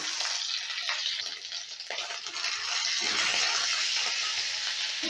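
Cumin seeds, black mustard seeds and grated ginger crackle and fry in hot oil, a steady close broadband sizzle with faint spattering that dips briefly midway, no voices.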